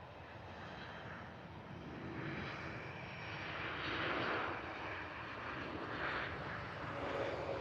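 Ryanair airliner on approach to land at Liverpool Airport, runway 27, its steady engine roar building gradually and swelling louder toward the end as the aircraft draws nearer, no talk over it.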